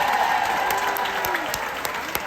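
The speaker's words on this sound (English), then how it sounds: "We're going to give them both a round of applause for getting here." Audience applause aboard a cruise ship at a game-show finale, a dense steady clatter of many hands clapping together, lively and sustained with a few sharper individual claps standing out near the end.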